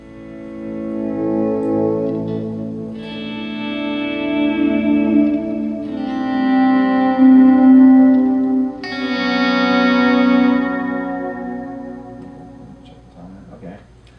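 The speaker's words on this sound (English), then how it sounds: "So I bring the volume down, but the reverb and the delay continue." Guitar notes with reverb and delay effects keep ringing and echoing after the guitar's volume is brought down with a volume pedal, sustained chorus-like shimmering tones swelling and slowly fading, with no talking.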